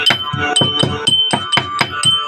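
Cardamom and cinnamon are pounded into powder with a hard pestle, about nine sharp, evenly spaced thuds with a clinking ring, loud and close.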